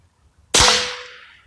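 A single sharp rifle shot firing a .410 round, loud and close, with a sudden crack followed by a long decaying ring and echo, no talking.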